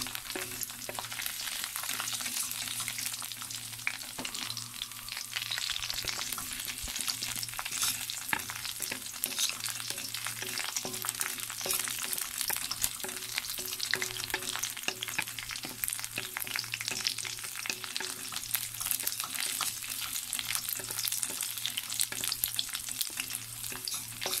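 Garlic sizzles and fries steadily in a pan for chilli garlic Hakka noodles, a continuous crackling hiss with occasional stirring scrapes and a low hum underneath, with no talking.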